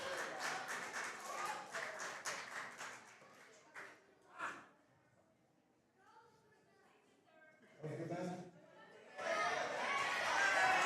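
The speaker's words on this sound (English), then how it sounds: "This crowd approving of that matchup between Flowhawk and Navarro" A wrestling crowd at a live indoor show murmurs and claps in bursts, with chatter and a swell of cheering and applause near the end; a commentator's voice runs over parts of it.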